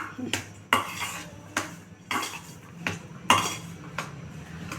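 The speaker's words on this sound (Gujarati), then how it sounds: "આમે આલુ જે બોઇલ કર્યા હતા એમાં મેં ડુંગળી લાલ મરચું અને મીઠું નાખી દીધું છે હવે એને મિક્સ કરી લઈશું" Boiled potatoes mashed and mixed with onion, red chili and salt in a bowl, heard as a series of about six rhythmic clinks and scrapes of a spoon against the bowl, close and clear over quiet background.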